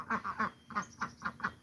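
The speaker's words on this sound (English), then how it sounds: "Flock of geese? I mean, flock of ducks." A flock of ducks quacking in a rapid series of about seven nasal calls, close and fairly clear with no talk over them.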